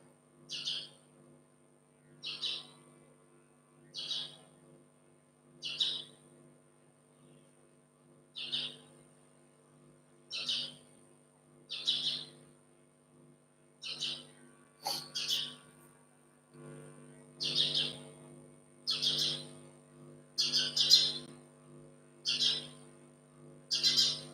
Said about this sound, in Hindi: हमारे कमरे में एक चिड़िया घुस गया।